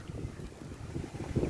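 Strong wind batters the microphone at a lakeside while carp fishing, a rough continuous low rumble and buffeting with no voices.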